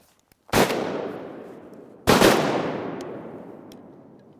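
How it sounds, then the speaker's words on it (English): Two loud shotgun blasts about a second and a half apart, each with a long echoing decay through flooded timber during a mallard duck hunt in Arkansas. "in these woods, you can really hear the gun."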